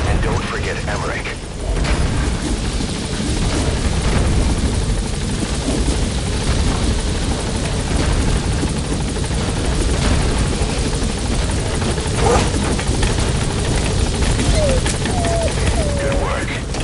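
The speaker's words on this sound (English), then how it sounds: "Alright, the chopper's touching down." A helicopter lands in the stealth-action video game Metal Gear Solid V: The Phantom Pain, its steady loud rotor roar running nearly seventeen seconds alongside bursts of gunfire and game effects.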